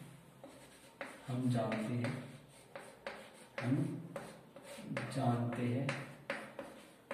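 Chalk or marker writes on a board in a Class 8 maths lesson, with soft scratching and tapping strokes under a teacher's steady explanation, which dominates throughout.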